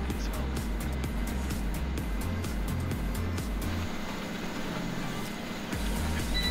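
A wheeled tractor drives along a farm field in Farming Simulator 2017, its engine giving a steady, loud low drone with a rhythmic pulsing throb that carries on unbroken.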